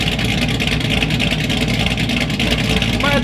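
Stage 6 cam engine idling loud and choppy right up close, a steady lumpy rumble that drowns everything else out, with a voice talking faintly underneath it.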